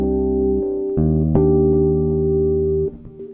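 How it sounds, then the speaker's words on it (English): Sustained, ringing bass guitar harmonics with a shimmering processed tone from the Waves CLA Guitar plugin, shifting pitch a few times and then fading out near the end. "That sound is Waves CLA Guitar, which is a plugin"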